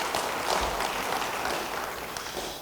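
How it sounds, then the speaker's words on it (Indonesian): A church congregation at an Indonesian worship service applauds in a steady, dense wash of clapping that holds at an even level throughout, with no voices on top. "Beri tepuk tangan bagi dia."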